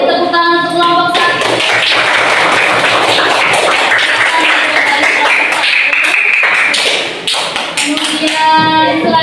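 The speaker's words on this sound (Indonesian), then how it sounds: "Beri tepuk tangan untuk kelompok 1." A classroom audience claps loudly and steadily for a group that has just given a presentation. The dense clapping lasts several seconds, with some tonal sound at the start and end.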